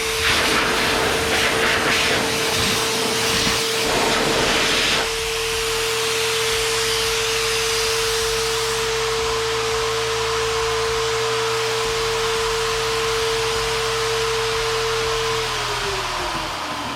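An Adams Air Cannon warm-air blower drying a car roars loudly and steadily with a high whine, close and continuous, then winds down near the end.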